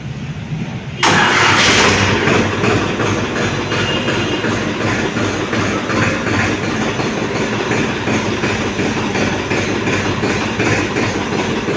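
A 2023 Farmtrac 45 Power Max tractor engine cranks and catches after about a second, then settles into a loud, steady diesel idle with a rough throbbing chug, close by and without talk.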